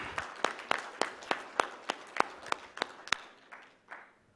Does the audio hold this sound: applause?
yes